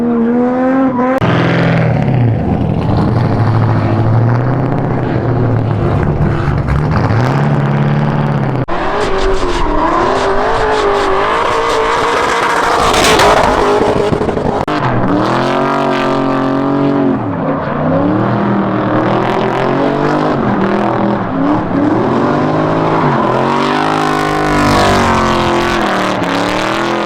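A loud 7.3-litre Godzilla-engined Ford Mustang drift car revs hard and continuously, pitch rising and falling through gear shifts, with occasional tire squeal as it drifts around the track.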